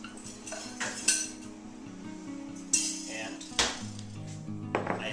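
A chilled metal bowl and whisk, iced in the freezer for whipping cream, clink and clatter in a few sharp metallic knocks and scrapes at close range, with kitchen handling noise between the impacts.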